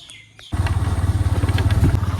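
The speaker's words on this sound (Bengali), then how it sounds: "চলো এখন বাইক নিয়ে যাবো একটু ঘুরতে" A motorbike starts up and pulls away on a rural village road after rain, its engine thrumming loud and close with a rapid pulsing beat, preceded by a moment of quiet with faint birdsong.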